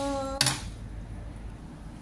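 A cooked chicken and mushroom dish is served onto a plate: one sharp clink of dishware rings out, followed by quiet kitchen background.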